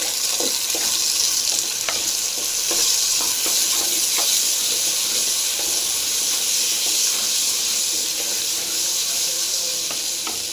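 Tomato seasoned with salt, pepper and cumin fries in a pan for a kuppaimeni soup base, giving a steady loud sizzle with occasional spoon scrapes and stirring clicks, no voices.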